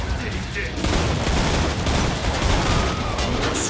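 Dense gunfire in the video game Killing Floor 2, a continuous loud barrage of overlapping shots and booms with no pauses, firing throughout.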